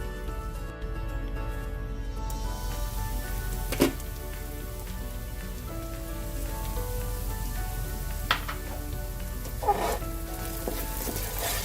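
Okra (ladies' finger) with potatoes cooks covered in a pan for a South Indian stir fry, giving a steady, close sizzle like light rain. A few soft clinks or stirring knocks break in around the fourth, eighth and tenth seconds.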